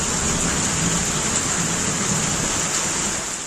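Heavy, continuous rain pouring down at night over Alangudi in Tamil Nadu, a dense steady hiss with no pauses, at moderate level and with no voices.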